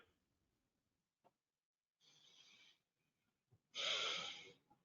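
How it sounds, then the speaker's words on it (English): Two heavy breaths, the second louder and longer, separated by near silence with a couple of faint clicks. "Can you hear me breathing?"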